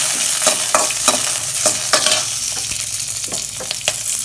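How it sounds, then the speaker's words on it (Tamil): Chillies, garlic and tamarind sizzle steadily in a hot pan, close up, with repeated sharp scrapes and clinks of a spoon stirring. "அதையும் போட்டு நல்லா வளைச்சிக்கலாம்"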